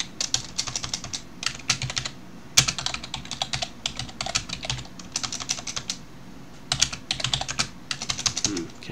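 Typing on a computer keyboard in quick bursts of clicky keystrokes separated by short pauses, close and fairly quiet, with no talk.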